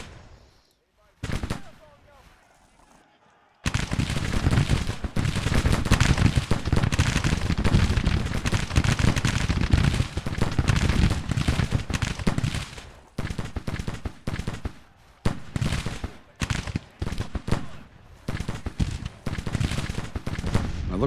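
Cavalry gunfire in the Civil War strategy game Grand Tactician: a dense, continuous crackle of massed rifle shots and booming volleys rolling on for many seconds, briefly thinning out and then resuming.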